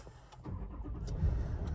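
Push-button start of a 2023 Toyota LandCruiser GXL, heard from inside the cabin: a low engine crank and catch that settles into a steady, moderately loud idle rumble.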